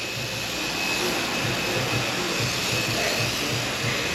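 Airbrush spraying thick, undiluted IGL Aegis clear graphene anti-corrosion coating from its nozzle, a steady close hiss of air that runs unbroken at even loudness with no talk.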